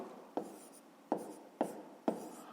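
Pen writing numbers by hand on paper for a fifth-grade math exercise, four short scratchy strokes with taps, close and quiet, no voices.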